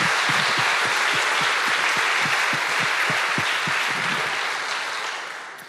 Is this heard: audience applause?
yes